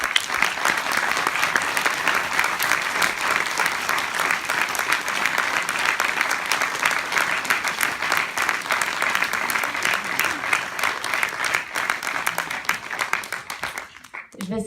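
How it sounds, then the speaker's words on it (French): An audience at a cinema inauguration applauds the cinema staff, a dense, sustained burst of clapping from a crowd that fills the room for over ten seconds before dying away. "Je vous demande d'applaudir Amandine Leduc et Julien Collard."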